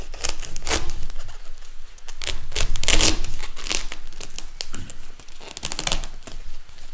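Dried luffa sponge being cut and torn open by hand, giving a loud, continuous dry crackling, crunching and ripping that comes close up and without pause through the whole stretch.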